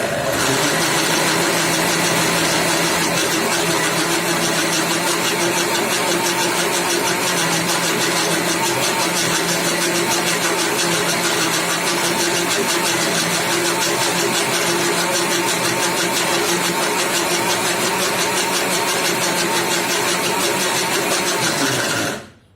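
A mixer grinder whirs continuously while beating instant coffee paste, a loud, steady motor whine that runs for about twenty seconds before cutting off at the end.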